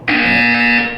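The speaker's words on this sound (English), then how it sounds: "You will hear a buzzer." A buzzer sounds in the Portal 2 video game, one loud, sustained electronic tone lasting nearly a second with a steady harmonic hum.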